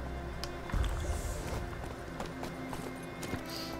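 Horse hooves clip-clop in a video game, a quick irregular run of soft thuds and clacks over a dense background, with a heavier thump early on.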